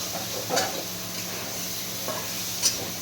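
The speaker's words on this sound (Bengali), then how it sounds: "তারপরে সবজিগুলোকে ভাজবো।" Vegetables frying in a pan for paneer chowmein, with a steady hissing sizzle and a couple of brief utensil knocks, close and without talk.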